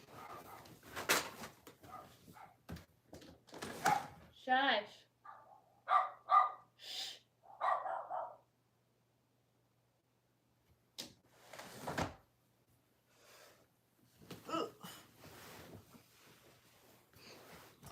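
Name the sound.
dogs barking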